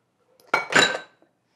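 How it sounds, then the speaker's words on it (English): Granola bar mix scraped from a pot with a utensil, a single brief burst of metallic scraping and clinking, close and fairly loud, with no talk. "I'm going to scrape as much of that mix as I can back out of my pot"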